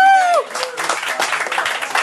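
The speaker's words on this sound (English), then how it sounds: "I would think everybody gives this man a round of applause." Bar crowd at a fundraiser breaks into applause right after a shouted line, a rough burst of clapping and crowd noise lasting a couple of seconds.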